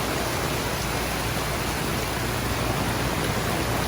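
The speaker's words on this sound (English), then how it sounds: "Well, it's raining." Steady rain falling at a campsite in Quebec, a soft, even hiss with no distinct drops or voices, continuous and fairly quiet throughout.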